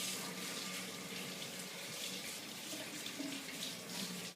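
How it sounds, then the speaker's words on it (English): Tap water runs into a sink as vegetables are washed for roasting, a steady close splash and hiss with no break. "So we're going to start off by washing our veggies."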